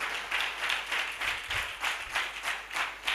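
A church congregation claps together in a steady rhythmic beat of repeated hand claps, moderately loud and without speech.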